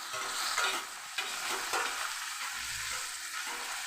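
Dried prawns and gongura leaves frying in a pan, a continuous loud sizzle with stirring scrapes mixed in, no voices.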